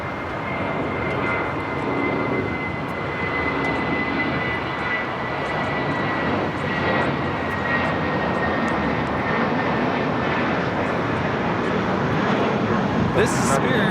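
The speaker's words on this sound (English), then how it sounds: "This is Spirit Airlines 2210 taking off to New Orleans on the A320." A Spirit Airlines Airbus A320 takes off at LAX bound for New Orleans, a steady, broad jet roar that holds for the whole stretch and swells slightly toward the end, with faint talk in the background.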